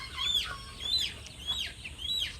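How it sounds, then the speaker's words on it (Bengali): Chickens on a poultry farm of Sonali, Fayoumi and colour-bird breeds cluck in a quick repeating series of close, sharp calls over a low background hum. "তো মুরগি এখন ধরতেছে, মুরগি ধরলো আর মুরগি মাপবো কয়েকটা"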